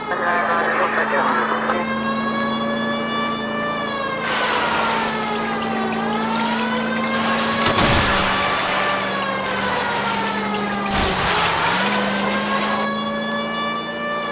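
In the LA Noire video game, a car chase runs with a sustained loud engine roar and shifting siren-like whine, with two heavy thuds where the pursuing car slams into another car's wheel arches.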